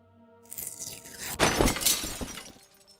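A stained glass window shatters in the Deponia Doomsday game, one loud crash of breaking glass with a bright scattering tail of falling shards that trails off quickly.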